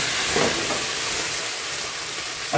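Wine poured into a hot skillet while cooking Italian veal involtini gives a loud, continuous broadband hiss and sizzle that holds steady throughout, close up, with no talking.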